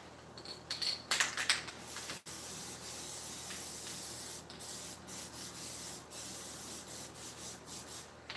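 An aerosol spray can sprays plastic dip glossifier onto a Krampus mask tongue in a workshop, giving bursts of soft hissing that start loud, then continue as steady faint spraying with short pulses.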